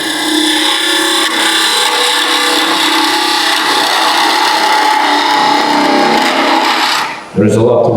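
A skew chisel shears wood on a spinning lathe, giving a steady continuous rasping and hissing cut close up that runs for several seconds before stopping abruptly near the end.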